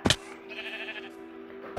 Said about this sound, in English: Oh, hey, sheep.